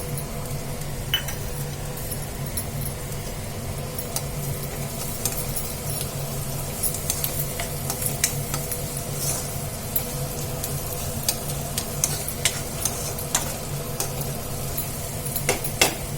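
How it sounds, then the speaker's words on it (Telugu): Onions and peas frying in a pan for street-style pav bhaji as ginger garlic paste goes in, giving a steady close sizzle with stirring scrapes and occasional clinks of a utensil against the pan. "ఉల్లిపాయలు బఠానీ కొంచెం వేగిన తర్వాత అల్లం వెల్లుల్లి పేస్ట్ అయితే వేసేస్తున్నాము"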